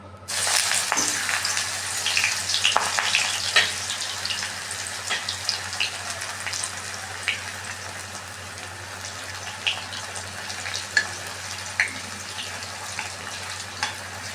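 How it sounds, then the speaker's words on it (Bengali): Raw plantain slices fry in hot oil in a karahi, giving a steady dense sizzle with bursts of crackle and pops, loudest at the start and easing into scattered spits. "তো আমি এখন ভেজে নেব। দেখুন, কড়াইয়ে তেল দিয়ে দিয়েছি, তেল কিন্তু আমার গরম হয়ে গেছে।"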